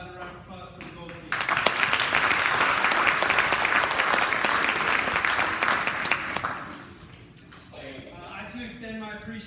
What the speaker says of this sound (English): How about a round of applause for the gold team?